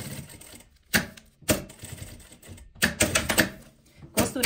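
A sewing machine stitches velcro onto fabric, its needle running in short separate bursts with quiet pauses between them, close and fairly loud.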